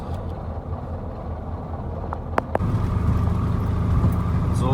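A truck hauling sugar beet drives along an autumn road toward a sugar factory, its engine a steady low rumble heard from the cab, with a couple of sharp clicks and the drone growing louder.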